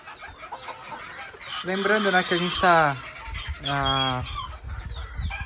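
Mini Garnisé bantam chickens cluck in their pen in a few bursts of close, pitched clucks and squawks, while someone speaks Portuguese over them.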